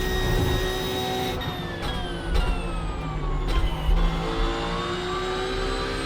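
Racing car engine on a fast lap in a sim racing game, loud and close, revving high and then dropping sharply on several gear changes or lift-offs, before climbing again in a continuous whine.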